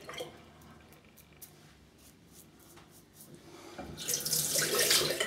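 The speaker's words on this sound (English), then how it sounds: "let me just rinse with some cold water" Cold tap water runs into a sink for rinsing after a shave, quiet at first, then gushing loudly and steadily over the last second or so, with no talking.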